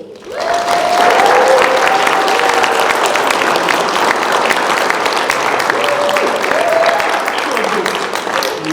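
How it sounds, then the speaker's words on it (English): Wedding reception guests giving a round of applause for the performers, steady dense clapping sustained for several seconds with faint voices underneath. "Can I have a round of applause for the performers today?"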